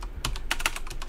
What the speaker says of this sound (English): We're gonna type in the IP address here